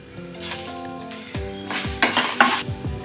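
Dried red chillies roasting in a heated pan, metal utensil scraping and clinking against the pan over a light sizzle, several sharp strokes close by, no voices.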